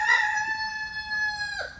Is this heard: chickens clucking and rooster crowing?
yes